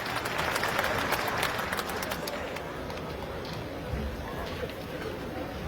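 A crowd at a political party rally in Talkatora Stadium, New Delhi, claps in a brief burst that fades into a broad crowd murmur, with someone talking over it.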